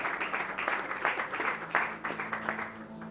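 Scattered audience clapping and cheering at a church gathering as pastors and reverends are introduced, uneven bursts of applause at moderate loudness with faint voices mixed in.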